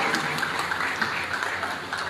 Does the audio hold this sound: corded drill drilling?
no